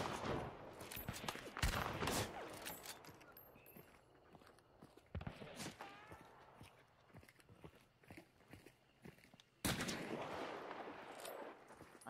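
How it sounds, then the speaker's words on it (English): Gunfire in a video game: scattered sharp shots, some in quick bursts, sound up close at moderate loudness over quieter game ambience, with occasional talking. "I'm shooting good shots"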